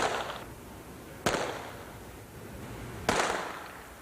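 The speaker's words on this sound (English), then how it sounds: "The most difficult part of the screening is the gun firing." Two sharp, loud gunshots about two seconds apart, fired during a gunfire screening test for dogs, each cracking out and fading with a short echo against a quiet background.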